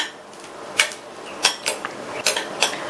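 A metal spoon clinks and scrapes against a pan as cashews roast in ghee for sweet kozhukattai. Several sharp, close taps and knocks come in small irregular bursts over a faint, steady background.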